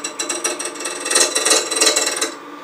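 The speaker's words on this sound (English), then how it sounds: "I'm going to use my spindle gouge and just round it over a little bit." A spindle gouge cutting a cherry burl awl handle spinning on a wood lathe gives a rapid, evenly pulsing chatter that holds steady for about two seconds before stopping.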